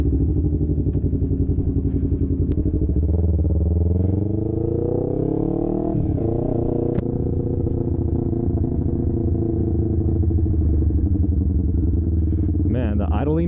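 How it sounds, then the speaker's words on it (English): A rebuilt Yamaha R3 300cc motorcycle engine idling close by, a steady throbbing putter with a brief rev swell midway, while a person talks over it. "Man, the idling noise on this thing is sick."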